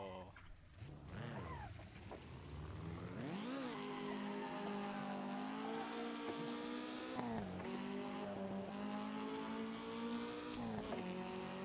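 A car drifting in a racing video game, its engine whining and shifting pitch as it revs and slides through corners, loud and continuous throughout.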